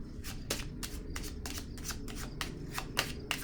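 Tarot cards being shuffled up close, a quick run of about a dozen crisp riffling bursts in a steady rhythm over a low background hum.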